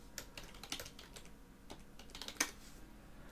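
Quick bursts of keystrokes on a computer keyboard as a name is typed in, irregular soft clicks close by with one sharper tap near the end, no talking.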